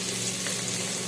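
Chopped onion sizzles and fries steadily in a hot pan while cooking Filipino chicken tinola, a dense, even crackle that holds close and loud for the whole moment with no talking.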